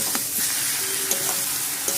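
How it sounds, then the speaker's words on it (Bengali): Green chilli and chopped onion sizzle in oil tempered with five-spice and mustard seeds, ahead of adding greens. Steady close frying hiss is punctuated by a few stirring clinks, with no voices. "কাঁচা লঙ্কা পেঁয়াজ কুচি দিয়ে একটু হালকা ভেজে তারপর শাকটা দিয়ে দিব।"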